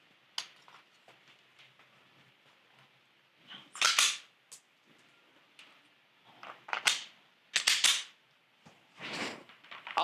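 Gunshots fired at targets during a timed shooting drill of five hits, heard as a few scattered sharp cracks over about ten seconds, some single and some in quick pairs, with quiet gaps between them.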